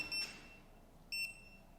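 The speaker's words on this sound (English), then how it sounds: "You can turn off the beeps." A DJI Action 2 action camera gives two short electronic beep tones, roughly a second apart, over a low background hiss.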